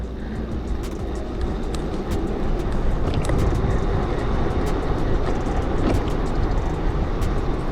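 An Onyx CTY2 electric bike rides at speed, with steady broadband wind rush and road roar up close, faint clicks scattered over the continuous noise.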